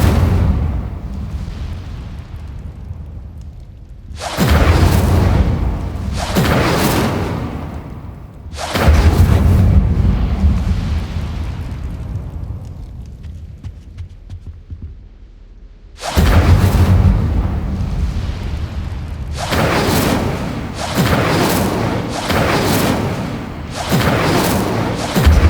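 Incendio fire spell explosions in Hogwarts Legacy go off as several loud booming bursts, some in quick pairs, each trailing off into rumbling decay between blasts, with no voices.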